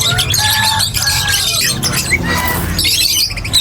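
Cockatiels and other pet birds in a bird shop squawk and chirp constantly, shrill overlapping calls filling the space with steady dense chatter up close.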